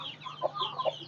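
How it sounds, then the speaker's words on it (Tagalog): Chickens cluck around a house in a short burst, two or three close, soft clucks and chirpy calls over faint background noise. "Puro manok."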